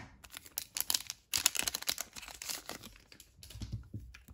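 Crinkling and tearing of foil wrapping as a Panini Select NBA trading card pack is opened, a run of sharp crackles and rustles up close, pausing briefly, then softer handling sounds toward the end.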